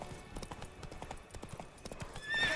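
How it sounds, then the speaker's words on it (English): The horse Roach gallops in The Witcher 3 Blood and Wine DLC with rapid rhythmic hoofbeats at moderate loudness, ending in a brief whinny over the game's ambient sound. "Here, Roach rides fast"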